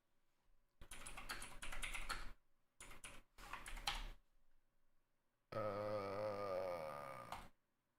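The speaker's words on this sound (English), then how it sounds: "It's like it's a keyboard and a stream deck all in one." Quick bursts of clacky typing on a combined keyboard and stream deck, close and crisp, in three short runs followed by a longer droning, whirring sound.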